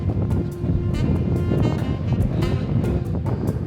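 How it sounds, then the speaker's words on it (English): Wind blows hard on a hilltop in San Francisco, buffeting the microphone with loud, continuous low rushing and brief gusty surges. "It's quite windy up here."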